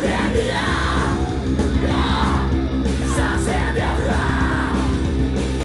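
A dense concert crowd yells and whoops continuously during a song by an emo band, with loud massed voices filling the space and amplified music underneath throughout.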